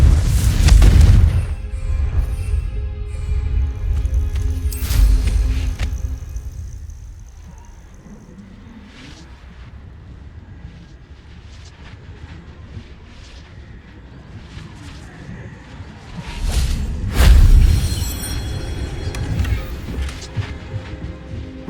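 Deep booming explosions from the Confringo fire spell in the video game Hogwarts Legacy, with a heavy blast at the start, another around five seconds and a third late on, separated by low rumbling ambience and faint game effects.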